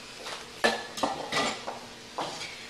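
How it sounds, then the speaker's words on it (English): A utensil stirs rice, ground beef, tomatillos and chipotles in a pan, giving a few close scraping clinks against the metal over a faint background hiss. "Just stir this around until this rice and beef and the tomatillos and chipotles mix together."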